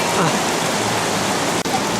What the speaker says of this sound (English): She's going crazy over there, the rain.